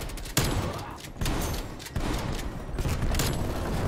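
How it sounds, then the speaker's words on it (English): A shotgun fires in a video game, a few loud, sharp blasts spaced irregularly over a dense, noisy in-game background with no talk. "oh, you're using that shotgun"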